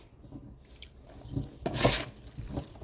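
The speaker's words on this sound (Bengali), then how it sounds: "এখন ঢেঁড়সগুলো ধুয়ে নেই" Freshly picked okra being washed in water makes faint, close sloshing and dripping, with a few soft splashes that peak briefly near the end.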